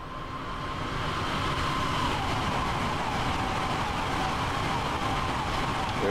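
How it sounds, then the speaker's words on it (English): A passing train rumbles steadily in Train Sim World on the Bradford Forster Square to London King's Cross route, a broad continuous roar with a faint rising whine, loud and sustained throughout. "Oh, we can watch this train come by."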